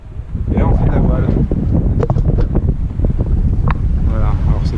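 Strong wind at sea on a sailboat bound from the port of Barbate toward the Canary Islands, buffeting the microphone in loud continuous gusts with someone talking over it.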